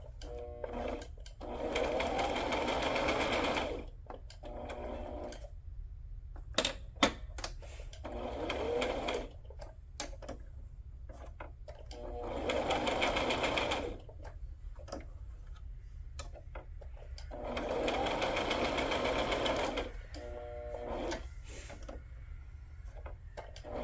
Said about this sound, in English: I'm going to go ahead and sew that together.